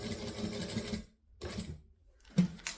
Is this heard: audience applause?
no